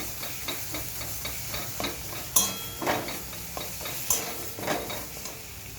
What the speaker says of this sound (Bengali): আপনারা এইভাবে নেড়ে চেড়ে নিয়ে শুকিয়ে নেবেন।